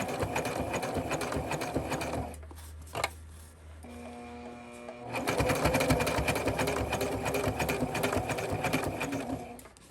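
A domestic sewing machine stitches a seam in loud, steady runs of rapid mechanical clatter, stopping briefly midway with a short pause and a clunk before resuming at full speed.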